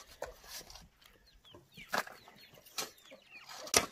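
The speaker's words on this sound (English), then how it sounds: "the chicken's jumping over the pots" Farmyard chicken in a rural French garden, jumping over plant pots: scattered soft clucks and brief bursts of flapping wings, fairly faint and close, with rustling in between.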